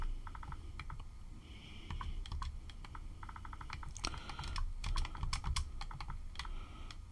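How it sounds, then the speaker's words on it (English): Typing on a computer keyboard, with quick bursts of close, crisp key clicks and pauses between them and no talking heard. "Yes, I'm typing."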